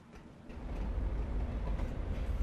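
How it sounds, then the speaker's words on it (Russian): Train rumbling across a railway bridge in the Alan Wake video game, a steady heavy low roar with clattering that builds slightly and holds throughout, no voices. "Что это? Поезда?"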